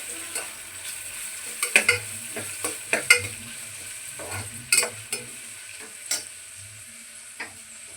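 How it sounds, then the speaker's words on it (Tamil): Onions and garlic sautéing in a pan for hotel-style poori kurma, with a low sizzle under repeated scraping stirs and sharp ladle taps against the pan in an uneven rhythm, close and moderately loud, no talking. "ஸோ வெங்காயம் வதங்கினோன்னே அடுத்து நம்ம பூண்டு சேர்த்துக்கிறோம் பூண்டும் சேர்த்து வதங்கட்டும்"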